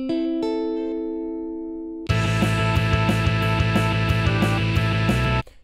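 A rock song plays its last measure into the chorus: a sparse, ringing guitar figure for about two seconds, then the full band crashes in loud and dense with driving drums, cutting off abruptly near the end.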